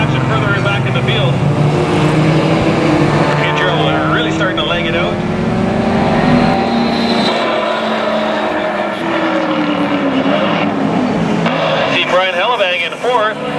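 Race cars on a road course, among them a turbocharged or supercharged Mazda Miata and a Corvette, drone through engine notes that rise and fall as they pass, heard under continuous race commentary.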